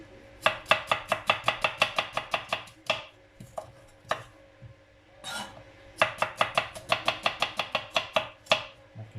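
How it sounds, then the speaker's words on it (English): Knife chopping onion, coriander and garlic cloves on a board: two fast bursts of rapid, evenly spaced close chops with a short pause between, crisp and alone without talk. "I'm going to chop the onion, the coriander and the garlic cloves."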